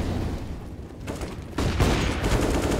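Tec-9 pistol fire in a CS:GO esports match, with a dense, continuous crackle of shots that swells louder partway through, mixed with other gunfire and game noise.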